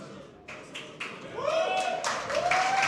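Esports arena crowd in Dortmund at a Warcraft III tournament, scattered claps at first building into louder cheering and applause, with whistles rising over the crowd noise.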